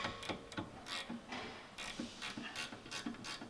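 A ratchet wrench clicks in a fast, steady rhythm, close and clear, as a rear brake caliper bolt is broken loose on a 2019 Lexus RX350.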